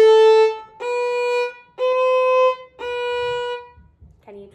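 A violin plays the four opening notes of the fiddle tune Old Joe Clark, each a clear sustained bowed tone separated by short gaps. A faint bit of a fifth note starts at the end.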